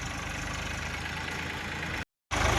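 A tractor engine runs steadily on a road beside farm fields where sugarcane is hauled for jaggery making, a continuous mid-to-low idling rumble that cuts out briefly near the end and then resumes.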